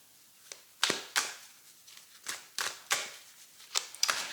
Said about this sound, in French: Je vais quand même recouvrir les cartes précédentes.